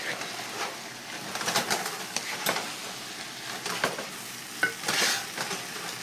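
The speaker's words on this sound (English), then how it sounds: "So I'm stirring that up." Vegetables for chicken noodle soup stirred in a pot, with repeated scraping and clinking strokes over a faint sizzle, close and fairly quiet, no talking.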